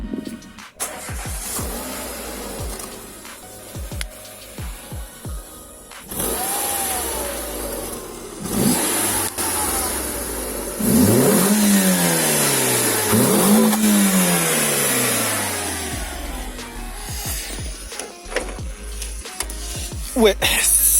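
A Renault Twingo 2 RS sits stationary while its engine is revved repeatedly, rising and falling through several throttle blips over a steady idle, with a fairly muffled exhaust tone and people talking nearby.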